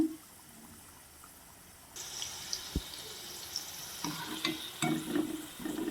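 Indian gooseberries (amla) fry in a pan with a faint sizzle that swells after a quiet start, punctuated by turning clatters and bubbling sputters.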